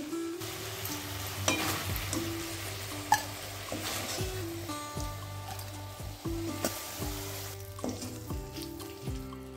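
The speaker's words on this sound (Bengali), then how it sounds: "মাছটা ভেজে নেওয়া হয়ে গেছে, তুলে নিচ্ছি।" Fish fries in hot oil with a steady, close sizzle, broken by occasional stirring clinks, while soft musical tones play in the background.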